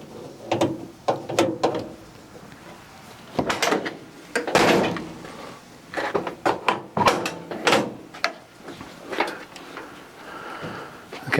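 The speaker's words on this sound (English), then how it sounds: "I pretty much just slid the latch forward about as far as it would go and tightened it" A door latch on a 1962 Chevy truck being slid and worked, giving a series of sharp metallic clicks, clunks and scrapes in irregular bursts, close up and alone.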